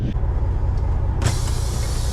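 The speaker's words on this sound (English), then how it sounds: "He's running his truck because it's cold at night." A diesel truck idles in a hotel parking lot on a cold night, a steady low rumble running loud and close throughout, with a sharp hiss or brighter broadband surge joining about halfway and continuing.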